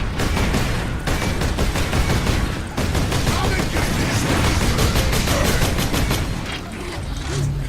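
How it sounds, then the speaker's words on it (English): A rapid-fire rocket launcher in the Warhammer game Space Marine pounds out a continuous, heavy barrage of punchy blasts with booming impacts, nearly unbroken apart from brief pauses. "It's basically a rapid fire rocket launcher. Got a hell of a kick to it."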